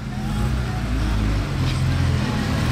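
A Porsche fitted with a Brabus exhaust rumbles nearby with a deep, steady low-end drone, joined by broadband street noise that stays constant for the whole stretch.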